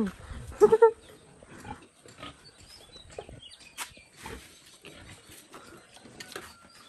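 Pigs on a working pig farm grunt in a short, loud cluster of close grunts near the start, then quieter scattered snorts and shuffling noises follow.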